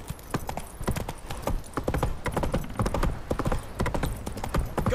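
Hooves of Roach, Geralt's horse in The Witcher 3, pound in a fast, steady galloping clip-clop, close and continuous for the whole stretch.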